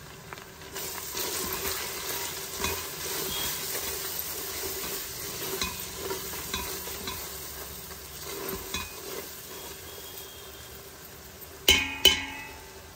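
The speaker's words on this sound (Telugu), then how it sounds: "తర్వాత టమాటోస్ వేసేస్తున్నాం. ఒక్కసారి తిప్పుకొని" Tomatoes are stirred into a pan of frying chicken pulao base with chilli and spices, giving steady close sizzling under repeated spoon scrapes and taps, with two sharp metallic knocks near the end.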